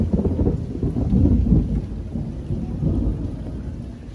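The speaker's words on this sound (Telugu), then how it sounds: "నాకు ఈ ఉరుముల సౌండ్లు వినాలంటే చాలా భయం అన్నమాట" Heavy rain pours steadily outside while deep thunder rumbles and rolls through it, loud and close, with no voices.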